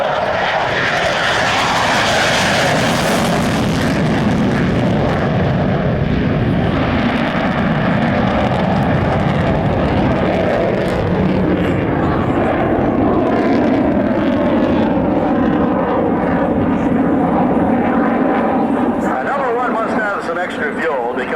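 A military jet at an air show roars past with afterburners lit, a loud broad rumble building and sustained for about twenty seconds, with someone talking over it throughout.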